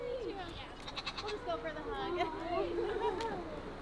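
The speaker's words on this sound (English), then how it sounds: "All right, goat's here." A goat bleats in a long wavering call lasting a few seconds, close and fairly clear against quiet surroundings, heard on a trip in Maine.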